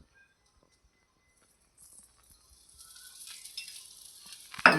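Oil in a pan starts to sizzle as ragi flour batter fries, faint at first and then building into a soft, crackling hiss that grows louder toward the end.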